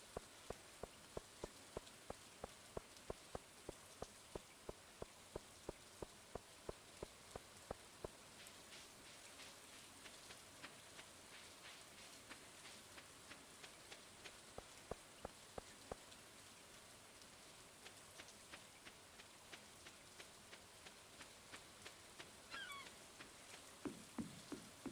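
Rain falls in the farming video game Stardew Valley, a soft, quiet hiss with evenly spaced drip ticks repeating steadily throughout.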